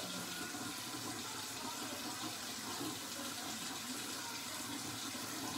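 A bathroom tap runs steadily as hands are wet before applying cleansing gel, a constant broadband hiss of flowing water lasting throughout with no talk.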